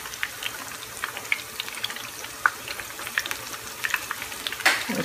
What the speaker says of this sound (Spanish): Vamos a dejar, ¿verdad?, que eso se fría bien antes de sacarlo